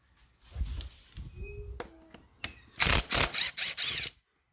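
Several quick bursts of a powered driver with a T25 Torx bit back out screws from a 2011 Chevrolet Equinox, after some clicks and handling noises at close range.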